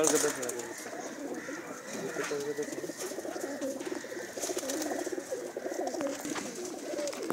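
Pigeons on a village rooftop in Khadriala coo softly and repeatedly while someone talks over them.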